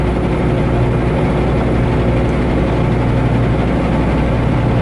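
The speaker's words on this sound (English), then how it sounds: "how do you guys compare Baby Blue's engine noise compared to Sydney Jane?" A semi truck engine runs steadily at idle, a dense, loud, continuous low drone with a faint tappet-like texture, unchanging throughout and with no talk.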